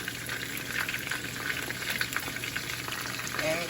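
Pepper pieces and garlic frying in hot oil for escovitch salmon, a steady close hiss and crackle of sizzling that runs unbroken throughout with no talking.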